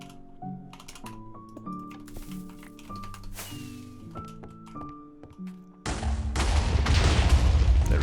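A TNT explosion in a block-building video game: several seconds of clicking and tonal placement blips, then a loud sudden blast with a rumbling, crackling roar that keeps going to the end.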